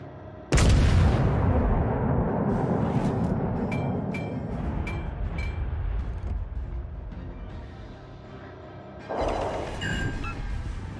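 Warship artillery in World of Warships: Legends aboard the cruiser Yoshino: a sudden loud boom, then a long rumbling, creaking decay with faint metallic clinks, and a second blast near the end.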